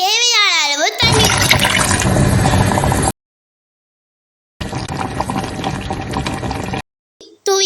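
Water poured into peas kurma in a pressure cooker, heard as two loud, close rushing bursts separated by a short silence, with a brief high tonal sweep at the start.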